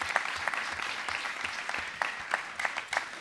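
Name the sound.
applause for British wheelchair tennis champions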